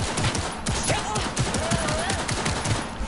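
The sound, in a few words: gunfire in the video game Cyberpunk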